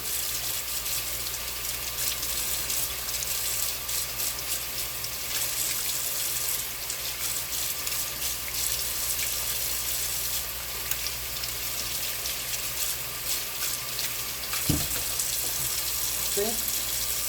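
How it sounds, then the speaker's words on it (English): Potatoes scrubbed with a sponge under a running kitchen tap: a steady, close rush of flowing water that holds an even level throughout, with faint handling noises mixed in. "I just take that sponge and I just scrub my potatoes to get the dirt off of it"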